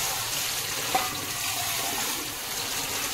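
Water poured steadily over marigold flowers being rinsed for pakora in a home kitchen, a continuous close splashing wash with one brief clink partway through.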